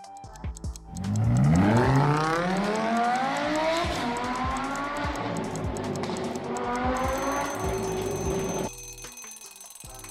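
A Lamborghini Huracan engine revs hard, its loud, rising howl climbing and then holding a steady high note before cutting off abruptly, with no voices.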